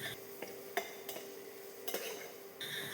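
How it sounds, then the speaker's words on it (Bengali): Vegetables with ginger and garlic are stirred in a frying pan for a mushroom stew, with a soft steady sizzle and several sharp clicks of a utensil scraping and tapping the pan. "খুব বেশি ভাজার দরকার নেই, কিন্তু মিডিয়াম একটু নাড়িয়ে চাড়িয়ে নিতেই হবে।"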